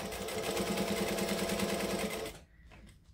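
A sewing machine backstitching through vinyl at a lengthened stitch runs in a steady, close, buzzing whir for about two seconds, then stops abruptly, leaving quiet handling noise.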